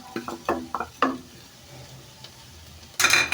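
A spoon scrapes and taps against a pan as fried greens are stirred with crushed dried chillies, giving several quick clinks followed by a short burst of sizzling.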